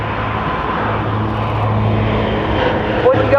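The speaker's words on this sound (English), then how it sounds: "coming in to pretend to land, simulating that the airfield is hot or the runway is obstructed, and carrying out a go-around" Casa CN-235 military transport aircraft of the French air force flying a go-around at an air base, a steady loud drone of turboprop engines throughout with a tonal hum, people talking nearby.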